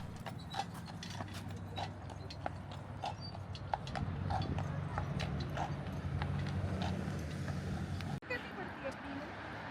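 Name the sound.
horse hooves clip-clopping on a street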